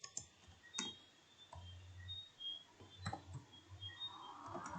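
A computer mouse gives soft, faint right-clicks, a few sharp isolated ticks spread over a quiet background with no talk.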